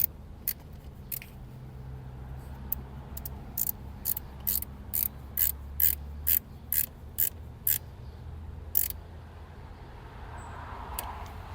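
A wrench tightens a car battery terminal clamp on a Scion iQ, giving a run of sharp, evenly spaced ratcheting clicks close by against a low background hum.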